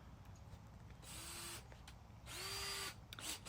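A power drill fitted with a larger bit drills out a screw in a wooden dresser, two short whining bursts of the motor spinning up and biting, with quieter handling noise between them and no speech.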